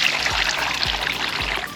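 Cool artesian well water pouring steadily from a well flowing at seven gallons a minute, a continuous close splashing stream with no talk over it.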